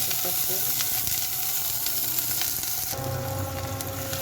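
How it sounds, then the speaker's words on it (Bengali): Onion frying in oil in a home kitchen sizzles and hisses steadily at close range, with a brief clatter midway and the sizzle swelling fuller near the end. "এখন পেঁয়াজটা ভেজে নেব, তেল দিয়ে দিলাম।"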